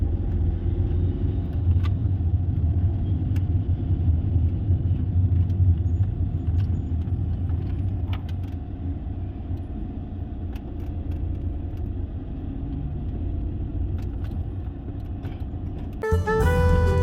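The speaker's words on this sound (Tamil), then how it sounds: "இது சிட்டிக்குள்ளே இருக்கிறதுனால சிட்டி பஸ்லாம் வருது. கொஞ்சம் டிராஃபிக்காக தான் இருக்குது." City traffic with cars and city buses heard from inside a used car driving through Madurai, a steady low engine and road rumble with small rattles, ending in a brief sharp clatter.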